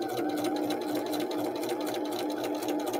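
Sewing machine stitching a quarter-inch seam along the edge of the presser foot at a slow, steady pace, its rapid motor hum and needle clatter continuous and close for the whole stretch.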